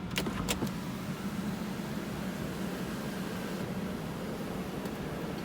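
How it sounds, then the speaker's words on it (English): Powered sunroof of a 2008 Mercedes-Benz S350 W221 opening, a steady electric motor hum running inside the quiet cabin after a few brief clicks at the start. "This car does come with a fully powered sunroof."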